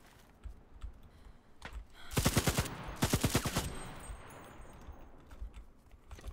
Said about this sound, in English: there's this guy here shooting at me